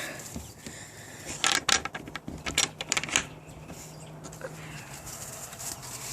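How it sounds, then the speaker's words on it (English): A chicken coop door is shut with a cluster of close wooden knocks, scrapes and latch clatter in the middle, surrounded by quieter rustling and a faint low hum. "So we'll shut the door."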